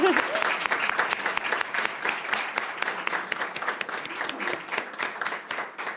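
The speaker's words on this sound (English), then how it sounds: "give our staff a huge round of applause" A crowd applauds steadily for several seconds, dense clapping filling the room without any talking over it.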